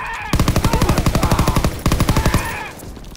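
Sustained machine gun fire from a World War II-era MG in Call of Duty WWII's D-Day mission, loud and close, with rapid evenly spaced rounds in two long bursts separated by a brief pause.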